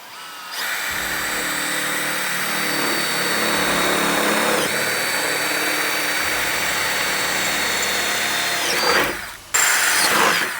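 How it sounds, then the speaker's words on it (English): A power drill with a 5/16 bit whines loudly and continuously close by, boring into the side of a truck bed, steady for several seconds, briefly cutting out near the end before starting again. "Using a 5/16 bit, you can drill your hole in the side of the bed."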